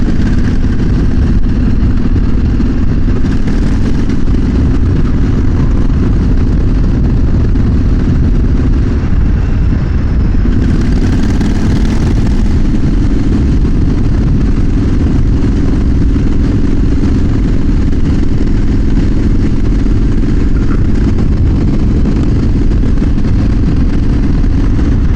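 A motorcycle fitted with a custom twin-pipe exhaust runs steadily for the whole stretch, its low, rumbling engine note holding constant and close by, with no talk over it.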